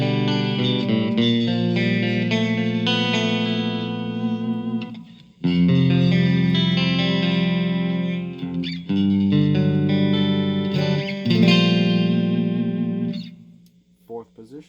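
An Ibanez RG1070PBZ electric guitar is played through effects on its third pickup position, giving sustained chords and notes for about fourteen seconds, loud and up front before fading out at the end.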